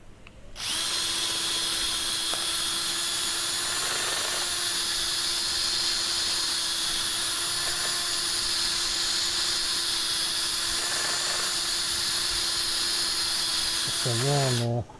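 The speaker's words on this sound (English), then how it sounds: "Now we can whiz down through the 180 grit again and the 240." An electric power sander works steadily on an oak burr bowl spinning on a woodturning lathe, 180 grit paper giving a continuous high whine with a faint steady hum, loud and close, stopping near the end.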